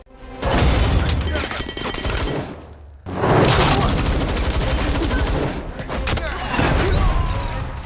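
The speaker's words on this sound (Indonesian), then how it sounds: "Yuda berhasil melumpuhkan beberapa Kurawa dan bahkan mampu menahan peluru hanya dengan tangannya." Dense, loud bursts of rapid gunfire and booming impacts in a fight scene from the Indonesian superhero film Gatotkaca, in three long volleys with short gaps between them.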